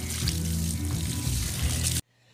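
A garden hose sprays water onto a lawn in a loud continuous hiss and splash that cuts off abruptly near the end, leaving faint background sound.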